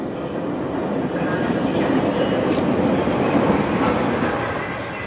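Train arriving in the video game Syndicate, a loud continuous rumbling rush of wheels and carriages that swells and holds steady close by, with no talk.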